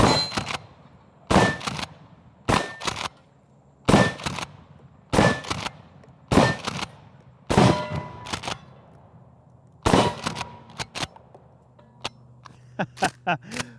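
Mossberg 590S shotgun at an outdoor range firing Aguila mini shells: about nine loud, sharp blasts in a steady rhythm roughly a second apart, then a rapid cluster of quicker shots near the end.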